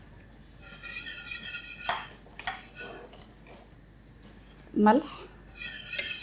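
A spoon stirs cooking cream sauce in a pot with light, intermittent scraping and clinking against metal, broken by a louder knock near the end, while a voice speaks briefly.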